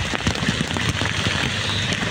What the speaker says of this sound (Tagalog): Sobrang lakas ang ulan dito sa TGC mga kagros